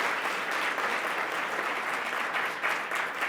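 Sustained audience applause at a civic club forum, applauding a panel on Black women entrepreneurs; a steady, even wash of many hands clapping throughout, moderately loud, with no talk.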